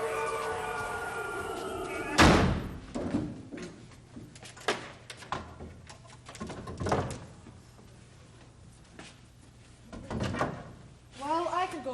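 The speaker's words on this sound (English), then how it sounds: "Help me get this door closed." A heavy door is pushed shut in a 2003 TV drama, with a loud slam and thuds between shouting voices, followed by more scattered bangs and a siren-like wail near the end.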